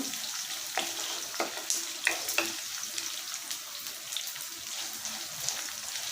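Onions and chillies sizzling and crackling steadily in oil in a pan with a few sharp pops and stirring clinks, fairly quiet and continuous.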